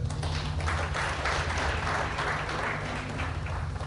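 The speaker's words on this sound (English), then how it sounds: "we need to clap for them." An audience applauds as a sustained, even wash of clapping, moderately distant, over a low steady hum.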